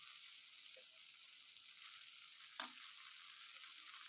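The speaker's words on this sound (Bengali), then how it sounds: "এটা আমি খুব ভালো করে একটু নাড়াচাড়া করে নিচ্ছি।" Egg chow mein is stirred in a hot pan, giving a soft, steady sizzle of frying with one brief scrape or clack partway through, heard faintly and on its own.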